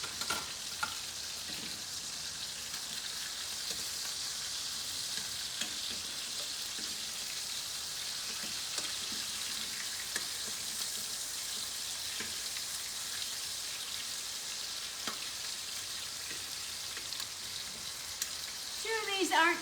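Pieces of chicken for lemon butter chicken fry in a pan with a steady, even sizzle like light rain, holding for a long stretch, with a few faint clicks and a brief rise at the end.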